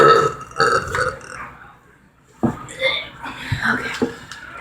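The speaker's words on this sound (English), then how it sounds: "For some reason, I burp quieter and shorter whenever I use soda." A person burps after drinking soda, producing a few short, fairly quiet belches close to the microphone, interspersed with talking and a brief chuckle.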